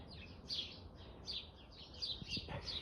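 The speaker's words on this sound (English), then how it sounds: "There's my mate the blackbird again." A blackbird sings in a garden in short, fluty, repeated phrases, faint and somewhat distant over quiet outdoor background.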